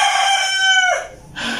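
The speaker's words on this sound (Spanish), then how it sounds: "los gallos cantan cada hora y no sé qué" A rooster crows nearby in a loud, drawn-out call that rises and then breaks off, followed by a short second burst from another bird.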